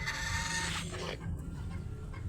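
An injured rooster clucks a few times close by amid steady background noise, with no voices.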